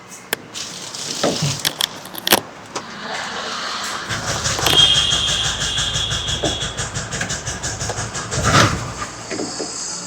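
A BS6 auto rickshaw engine cranks and catches, then settles into a steady low rumble with rattling, close by and fairly loud, with clicks and thumps throughout.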